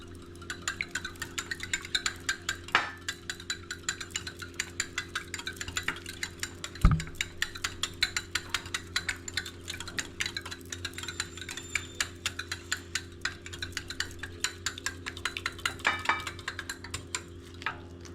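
Eggs being whisked for a masala bread omelette make fast, steady metallic ticking of a utensil against a bowl, quiet and close, with one sharper clink partway through and no talking.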